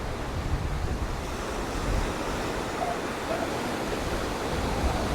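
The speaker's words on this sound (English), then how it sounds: "definitely getting some crashing waves" Waves crash and surge on a windy beach at Camp de Mar, Mallorca, a continuous loud roar of surf mixed with gusty wind buffeting the microphone, swelling slightly at intervals with no voices.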